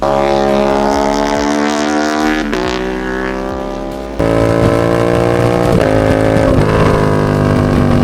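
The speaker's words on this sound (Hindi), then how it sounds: "हम लोग ने लगा लिया अपनी अप्रीलिया के अंदर एक फुल सिस्टम एग्जॉस्ट।" An Aprilia RS 457 motorcycle fitted with a full-system exhaust, loud and close with a strong harmonic engine drone that shifts pitch, dips, then surges back sharply as the revs climb.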